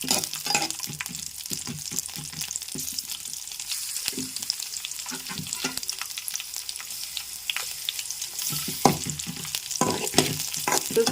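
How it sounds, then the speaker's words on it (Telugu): Urad dal fries in oil in a pan for a coconut ridge gourd chutney, with a low sizzle under frequent close clattering stirs and scrapes of a spoon. "ఈ విధంగా చక్కగా వేపుకోవాలి ముక్కలో చక్కగా"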